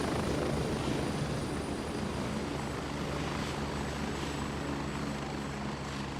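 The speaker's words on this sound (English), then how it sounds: "I figured that the helicopter sound and the music doesn't mix very well." A helicopter in the video game Gray Zone Warfare flies steadily for the whole stretch, its engine hum and rotor thrum loud and continuous, with no talking.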